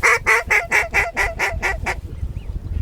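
Ducks, identified as wigeon, give a rapid series of about eight loud, nasal calls in a grassy field, close by, then fall away to quiet background with a faint distant call.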